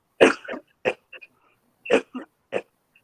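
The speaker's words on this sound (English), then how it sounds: "Sorry, I'm coughing" A person coughs in several short, harsh bursts with brief pauses between them, close and fairly loud, ending with a smaller throat-clearing cough.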